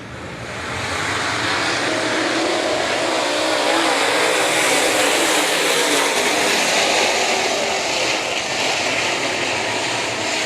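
A pack of Late Model race cars roars off the start of a heat race at a dirt track, the engine noise swelling quickly to a loud, sustained blare.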